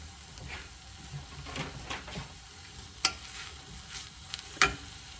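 Onions fry in a pot for French onion soup with a soft, continuous sizzle. A spoon stirs them now and then, with a couple of sharper clicks against the pot, close and fairly quiet.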